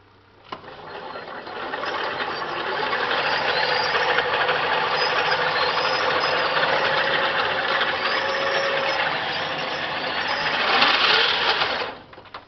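An electric motor on the Cub spins its wheels, rising into a sustained whirring drone that holds steady for about ten seconds, swells near the end, then cuts off abruptly.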